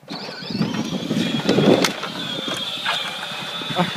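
Small electric Power Wheels ride-on toy car whirring and grinding through snow, a steady mechanical motor drone with crunching surges, close and continuous.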